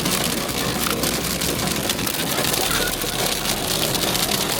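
Hail and heavy rain drum steadily and loudly on the roof of a camper van in Wales, a dense, continuous clatter of impacts with no voices.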